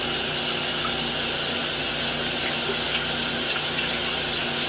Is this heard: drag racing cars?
no